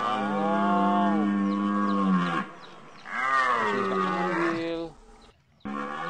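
A water buffalo cow lets out loud, close, drawn-out moos, two long bellows followed by a shorter one, with no talk over them.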